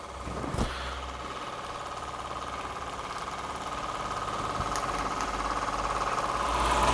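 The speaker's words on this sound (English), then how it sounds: "That little unknown Marine steam engine purring like a good one." A small marine model steam engine running quietly: a soft, even mechanical hum with a faint rhythmic texture, one brief knock near the start, swelling slightly louder as it keeps going.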